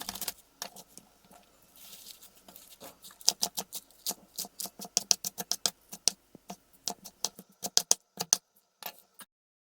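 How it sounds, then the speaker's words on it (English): A knife chops beetroot leaves on a cutting board with sharp, close clicks. They start sparse and uneven, then turn into quick rhythmic bursts before trailing off into silence. "The leaf you can use for salad, and here we just chop them up."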